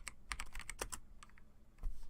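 Quiet, close clicks of typing on a computer keyboard come in short irregular bursts of keystrokes with brief pauses between them, and no voices.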